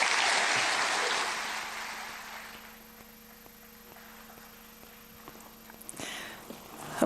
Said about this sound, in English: A big round of applause for Jean-Guy Africa, the CEO of the Rwanda Development Board